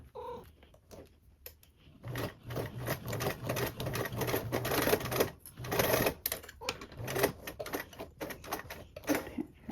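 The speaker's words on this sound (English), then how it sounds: "you'll sew up to meet those previous stitchings" A sewing machine stitches across a bag's grab handle in steady close runs, with short stops where the fabric is turned. There is no talking.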